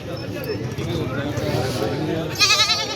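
A goat bleats briefly with a wavering cry near the end, over busy crowd chatter and voices talking throughout, at a livestock market in Talagang, Pakistan.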